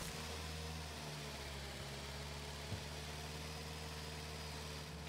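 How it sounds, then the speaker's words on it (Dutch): Tractor engine idling steadily in the farming video game Farm Together 2, a constant low rumble with a faint mid-range hum running throughout, no speech. "In de trekker."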